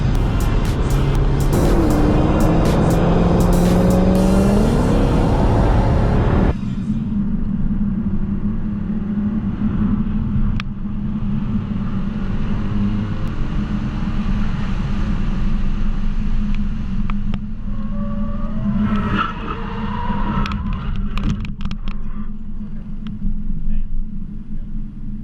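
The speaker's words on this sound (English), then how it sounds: "I feel like I'm in a car with Lewis Hamilton right now. That sounds awesome" Porsche GT3 RS sports car on a race track, its engine loud and roaring from inside the cabin, a sustained rumble with a sharp note change early on, then steady droning with wind and road noise.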